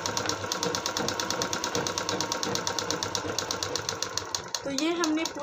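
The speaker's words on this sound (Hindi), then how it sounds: "पूरे को पहले सिलाई लगा लेंगे" Sewing machine stitching fabric for a decorative latkan tassel, a steady rapid mechanical rhythm running throughout at moderate level, with a voice briefly heard near the end.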